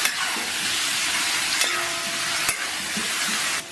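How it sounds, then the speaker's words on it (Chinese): Diced pork sizzles and fries loudly in hot oil in a wok, a steady close crackling hiss with occasional sharp scrapes from stirring, and no talking. "首先咱们给锅里边稍微来点油，然后咱们把切好的猪肉丁啊下到锅中"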